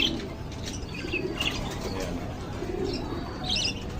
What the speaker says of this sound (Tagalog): Mga alaga kong kalapate.